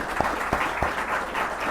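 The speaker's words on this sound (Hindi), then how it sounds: "अच्छे से ताली बजाकर।" An audience at a Hindi literary event applauds, a dense steady wash of many hands clapping with a few sharper claps standing out near the start.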